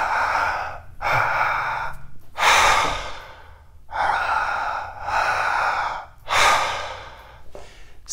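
Slow, deep breaths drawn in and let out in a guided breathing exercise, each long airy inhale and exhale clearly audible and close, repeating in a steady rhythm with brief pauses between, no talking.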